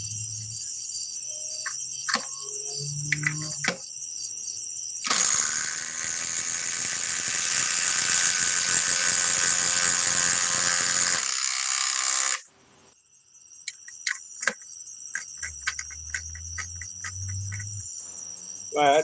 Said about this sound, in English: it's a DeWalt DCF 840 with a 4-amp power pack, still fully charged, versus the Bosch GDR 18V 215C with their 4-amp 21/7 cell